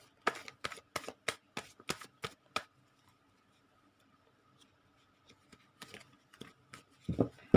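Tarot cards are shuffled in a quiet room, with a rapid run of crisp riffling snaps, a pause, then a few softer shuffles and a final louder flick.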